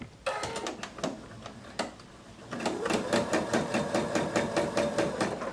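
Sewing machine stitching quilt strips together: a few short needle bursts, then a longer run of fast, even, rhythmic clattering, close by.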